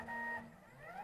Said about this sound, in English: and the printer will then move